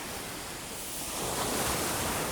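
Sea waves on a pebble beach in the evening, a steady wash of broadband surf noise that swells slightly louder toward the end, with no voices.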